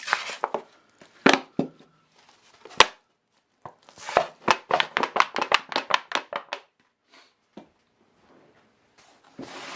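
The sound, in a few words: mixing biochar into garden soil by hand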